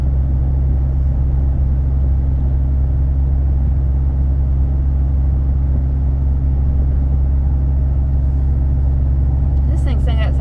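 A 2013 Ford F150 pickup truck climbing a hill, heard from inside the cab as a steady low engine and road rumble, with a faint brief rattle near the end.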